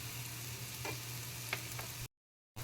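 Homemade Kolhapuri chutney masala, a red chilli, onion and garlic spice mix, is stirred in a frying pan, giving a steady low sizzle with a few soft scraping strokes, then a brief drop to silence.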